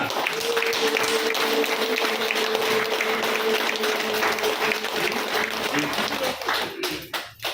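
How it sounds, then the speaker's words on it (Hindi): An audience at a health centre gathering applauds loudly and steadily for several seconds, with a held tone and chatter under the clapping before it trails off into scattered taps. "तो तालियां का जोरदार इनके लिए"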